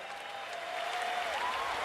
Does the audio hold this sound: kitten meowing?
no